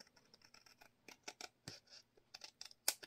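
Scissors snip and trim paper for a junk journal file folder, a quick run of short, crisp cuts and rustles close by, ending with one sharper, louder snip.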